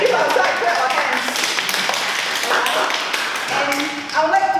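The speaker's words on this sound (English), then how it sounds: "Give ourselves a clap of hands." Members at a Toastmasters table topics meeting clap for themselves, a brisk, even patter of many hands at moderate volume that holds through most of the stretch, with a voice cutting in over the close.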